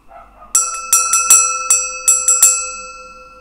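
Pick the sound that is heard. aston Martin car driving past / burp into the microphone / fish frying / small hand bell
small hand bell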